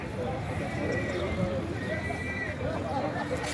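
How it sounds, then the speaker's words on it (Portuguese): Horse hooves clip-clop along as a mare pulls a rolling cart, under ongoing outdoor chatter and market noise at a horse fair in Canafístula de Frei Damião, Alagoas, Brazil, the animal sounding fairly close. "É uma égua bacana aí, ó, com a carroça."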